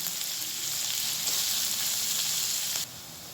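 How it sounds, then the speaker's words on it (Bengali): Sliced onions fry in hot oil until browned, giving a steady, close hiss of sizzling that stays even and then drops a little near the end, with no one talking. "পেঁয়াজগুলোকে একদম লাল লাল করে ভাজতে হবে"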